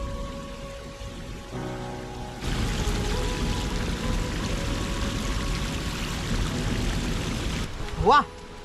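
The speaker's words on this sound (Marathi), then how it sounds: "तिथून धबधबे पडताय ना" Waterfall near Khopoli in the Sahyadri hills pours in a steady broadband roar, loud and continuous from a few seconds in, with a faint earlier wash and a brief rising tone near the end.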